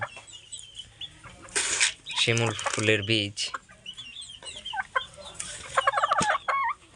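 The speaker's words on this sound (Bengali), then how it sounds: "আমাদের মুরগিটি ডিস্টার্ব করতেছে অনেক" A domestic hen clucks repeatedly at close range in a farmyard, in short bursts alongside someone talking about feed of mustard seed, silk-cotton seeds, wheat and maize.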